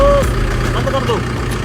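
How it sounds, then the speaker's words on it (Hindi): A tractor engine idles with a low, steady rumble up close while a voice is briefly heard over it. "भाई साहब बहुत देर हो गई ट्रैक्टर में घूमते घूमते, अब इसको बंद करते हैं"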